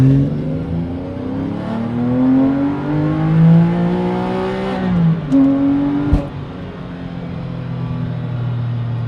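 Engine of a 412 hp Porsche 996 revving hard through a lap, rising and falling in pitch with gear changes, loud and close with no talk.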